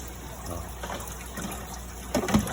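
Water is stirred and changed in a crab box, giving a low steady trickle and gush that ends in a few louder sloshing splashes close by.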